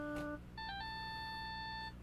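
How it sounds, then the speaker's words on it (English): A cell phone in the video game Phoenix Wright: Ace Attorney rings with a short electronic jingle: a brief chime, a pause, then a sustained tune of clear, beeping tones, quiet and alone. "All of a sudden, the phone began to ring."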